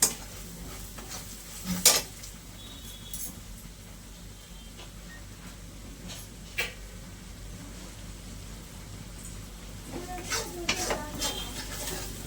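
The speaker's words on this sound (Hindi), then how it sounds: "मसाले क्या बेहतरीन भून रहे हैं मेरे, आप देख सकते हो" Spices roasting in a pan for fish curry make a faint, low sizzle, broken by several sharp clinks and scrapes of a utensil against the pan.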